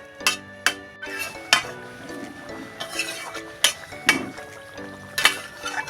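Metal lid and pot clinks while covering a jackfruit curry cooked with sour yogurt, a series of sharp clanks and scrapes spaced irregularly, close and fairly loud.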